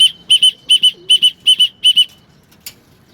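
A pigeon flaps its wings in six quick paired bursts, loud and close, followed by a single faint flutter after a short pause, with no voices.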